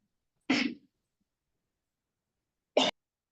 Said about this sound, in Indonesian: batuk jadi lagi gatal lehernya